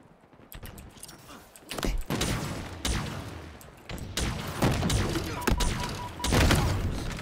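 Rapid bursts of gunfire and heavy thuds from a Halo Infinite match, loud and repeated in clusters across the span, with no talking.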